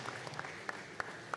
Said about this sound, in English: give me a big round of applause in helping the senior class start something special